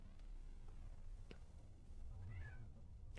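A pet cat meows for attention indoors, a faint, quiet cry heard once or twice against soft room noise, close but very low in level.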